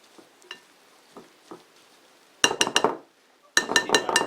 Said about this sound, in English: now I'm using a spatula to bring it all together, stir it, mix up the pieces